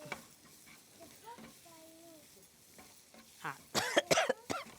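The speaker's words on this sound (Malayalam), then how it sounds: "മുളക് നന്നായിട്ട് മൂത്തെന്നുള്ളതാണ് ചുമ വന്നത്" A burst of harsh coughing from roasting chilli fumes near the end, loud and close, after quieter sizzling and stirring in a pan while making paneer butter masala.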